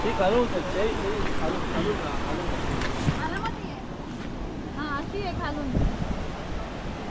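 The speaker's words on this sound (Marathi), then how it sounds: "हा बघा धबधबा केवढा मोठासा समोरून दिसतच असेल खूप मोठासा धबधबा आहे" A large monsoon waterfall at Dhangar near Badlapur roars steadily with broad rushing water and wind buffeting the microphone, while someone talks over it throughout.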